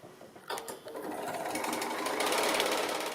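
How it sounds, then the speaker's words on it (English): A sewing machine top stitching fabric, starting with a few stitches then running steadily at speed, close and fairly loud with no talking. "So now I'm just going to top stitch just a 1/4 of an inch down from this fold here, all the way along"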